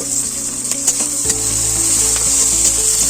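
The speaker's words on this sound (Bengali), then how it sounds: "এবার এর মধ্যে টমেটো কুচি, দুটো টমেটো কুচি করে নিয়েছি, দিয়ে দিলাম।" Two chopped tomatoes added to a hot pan, a loud steady close sizzle with some stirring scrapes, set beside a wood-fired clay stove where rice is cooking.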